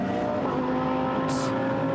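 GT race car number 888, the David Perel car, passing during warm-up at Zolder in the Blancpain GT Series, a loud, steady engine roar held close throughout with a brief high hiss near the end.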